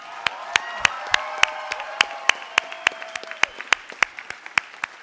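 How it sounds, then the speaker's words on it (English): An audience applauds at a physician assistant white coat ceremony, with steady, sharp individual claps standing out against a dense wash of clapping that carries on without any talk. "how about a round of applause for them?"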